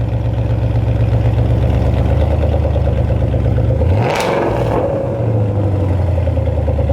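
Ford Mustang GT V8 cold start with active exhaust, loud and close: a steady rumble swells into a sharp rev flare around the middle, dips briefly, then settles back into a deep, continuous idle.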